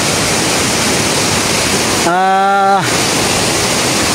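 Mantayupan Falls in Cebu roars as a steady, dense broadband rush of falling water, loud and continuous, with a voice speaking briefly over the middle of it.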